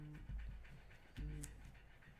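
Dogs panting indoors, two bursts of heavy rhythmic breathing about a second apart, fairly faint and close, with a high squeak or whimper between them.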